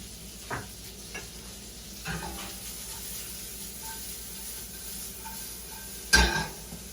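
Onions fry gently in a pan with a soft, steady sizzle, broken by a few faint stirring clicks and a sharper clatter near the end, heard close with no talking.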